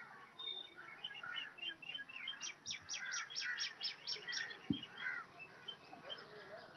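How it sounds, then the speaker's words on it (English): Evening birdsong near a house: a quick series of bright chirps and trills, moderately close, with a low thump partway through and no talking. "I hear a lot of birds."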